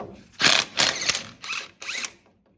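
Ratchet turning the top alternator bolt and nut on a Toyota Tundra, four short loud clicking bursts close up with brief pauses between them.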